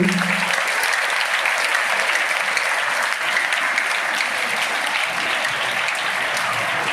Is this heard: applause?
yes